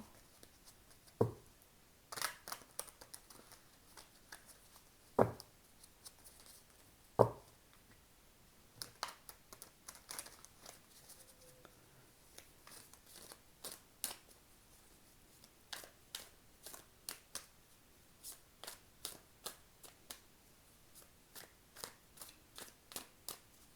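A deck of tarot cards is shuffled over and over, giving crisp riffling flutters and soft taps that come in uneven bursts at close range, with a few louder knocks of cards squared together and no talk.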